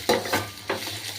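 Ginger and spices are stirred in a sizzling pan for a pointed gourd curry made with sesame and poppy seed paste, with three distinct scraping stirs over a low, steady fry.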